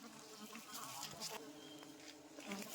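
Bees buzz around a wild honeycomb in a forest at night, a faint, continuous, wavering drone of many insects close by with soft rustling.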